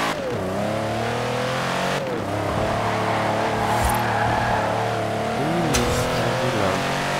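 Car engine revving and roaring continuously in a racing video game, with rising and falling pitch sweeps as the car accelerates and shifts, loud and steady throughout, with brief tire-squeal-like accents.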